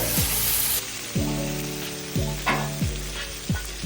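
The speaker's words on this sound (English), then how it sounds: "The moment it hits the 400-degree steel, the sugars instantly flash caramelized," Beef yakisoba noodles hitting a 400-degree steel flat top griddle outdoors: loud, close sizzling with repeated bursts every half second or so as the noodles are tossed and scraped, no talking.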